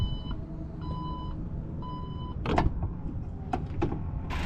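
The power tailgate of a 2022 Porsche Macan hums and then sounds a few electronic beeps, followed by soft clunks and clicks as it shuts and locks, close and fairly quiet.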